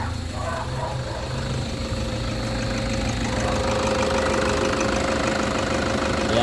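A 2015 Toyota Hilux engine runs after a timing belt replacement, a steady close idle with an even mechanical clatter and hum that continues throughout without talk.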